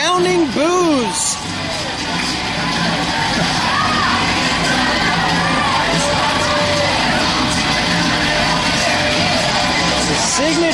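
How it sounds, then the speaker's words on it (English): Arena crowd at a wrestling show reacting loudly to a wrestler's entrance, a dense continuous roar of shouts and jeers that fills the whole stretch, with some higher yells standing out early. "The Gambler, Anthony Alexander, making his entrance to the C4W Arena to resounding boos."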